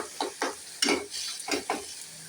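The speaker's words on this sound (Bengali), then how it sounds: "একটু ভাজা হোক" Tomato, ginger and turmeric sizzle in hot oil while a spatula stirs in quick, repeated strokes, each scrape loud and close.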